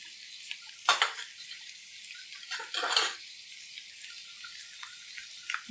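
Turmeric and chili powder stirred into an egg curry masala in a pan, a steady hiss of sizzling with a few louder scraping, splashy stirring bursts, close and without talk.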